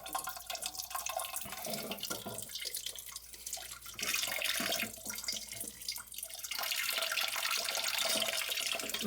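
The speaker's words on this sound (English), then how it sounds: "Let the water drain." Water drains from a toilet tank into a pan, a steady hiss and trickle with dripping that grows stronger partway through and continues to the end.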